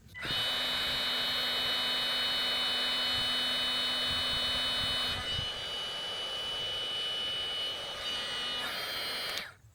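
Heat gun blowing hot air onto wiring on a Ford Explorer mass air flow sensor harness, a steady whooshing hum with a whiny motor tone, close and continuous for about nine seconds before cutting off.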